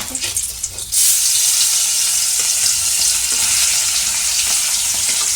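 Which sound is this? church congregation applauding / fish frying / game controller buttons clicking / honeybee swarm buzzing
fish frying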